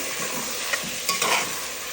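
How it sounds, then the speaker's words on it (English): Tomato stew for a Cameroonian garden egg dish fries in oil, a steady close sizzle with a few soft stirring scrapes and no talking. "we just keep frying in oil. It keeps frying in oil until it's properly cooked."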